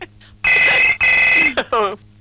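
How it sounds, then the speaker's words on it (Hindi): A telephone rings loudly and close in two long, even bursts, followed by short clattering sounds and brief voice fragments. "फोन।"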